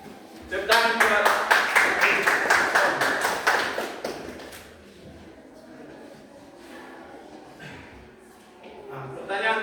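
A class of students clapping for a classmate's answer, a burst of loud applause lasting about four seconds that fades into quieter room sound.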